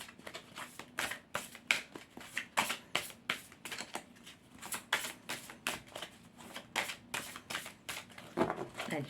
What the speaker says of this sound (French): à chaque fois que je remue les cartes